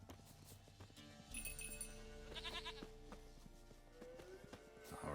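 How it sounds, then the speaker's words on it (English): A goat bleats several times in the Witcher 3 video game, with clear, tonal calls rising over quiet game ambience, a few hoof-like taps, and chiming tones. "Here, goat."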